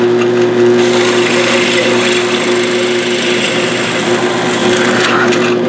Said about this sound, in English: I'm cutting a dado